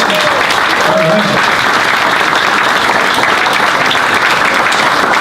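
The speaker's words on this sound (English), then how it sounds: "I would offer we should continue this round of applause." Audience at a Science on Tap talk gives loud, sustained applause, dense clapping filling the room from start to finish, with a brief voice near the beginning.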